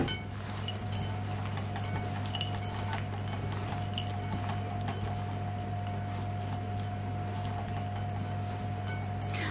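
Peanut caramel cookie dough is stirred by hand in a bowl, giving soft repeated scraping and light clinks of utensil against bowl over a steady low background hum.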